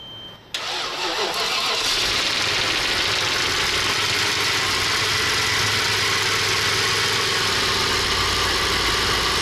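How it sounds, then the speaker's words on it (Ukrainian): An Audi A8 engine cranks briefly and catches after a battery charge, then settles into a steady, loud running idle close by, with a faint knocking rhythm under the drone. "підзарядили акумулятор, пробуємо запускати"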